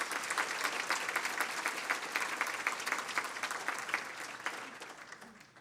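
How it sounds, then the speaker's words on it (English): An audience at a trustee scholar event claps steadily in sustained applause for several seconds, gradually fading away at the end. "please give a round of applause"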